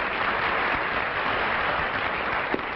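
Steady, dense studio audience applause at a 1956 television game show, even and moderately loud throughout with no voices over it.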